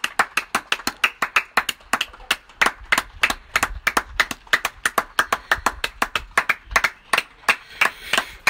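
People clapping outdoors for carers, a close, sharp, steady run of rapid hand claps lasting several seconds with no pause.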